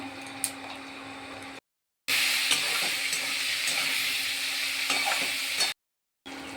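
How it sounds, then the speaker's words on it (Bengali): Sliced bitter gourd frying in hot oil seasoned with salt and turmeric, giving a steady, fairly loud sizzle with occasional stirring scrapes and two short breaks of silence. "আর কটা করে নেব উচ্ছে ভাজা, তার জন্য তেল দিয়ে দিয়েছি, গরম হয়ে গেছে"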